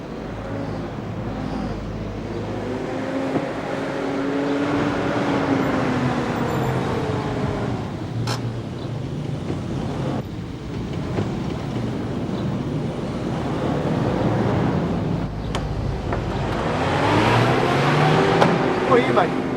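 Steady road traffic on a street, with cars rumbling past in a continuous wash that swells louder toward the end, while voices talk over it.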